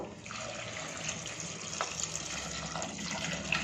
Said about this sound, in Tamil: நம்ம கொஞ்சம் தண்ணி ஊற்றிக்க போகிறோம்.